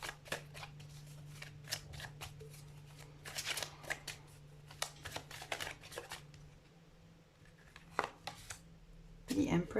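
Tarot cards shuffled by hand in a steady run of quick riffling flicks, close and crisp, pausing briefly near the end before a louder handling rustle.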